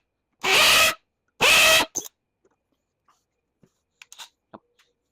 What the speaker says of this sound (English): A couple more rivets we'll drill out,